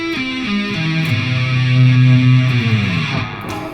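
Electric guitar sweep picking an augmented arpeggio shape, single notes rising and falling in a quick run with a lightly distorted tone, played alone and close for a few seconds.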